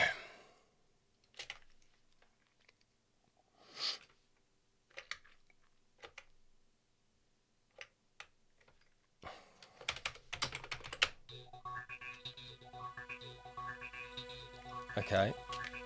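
Keys clack one at a time on an Amiga computer keyboard, with sparse, isolated presses at first and then denser typing. A voice and a steady electronic hum run underneath toward the end.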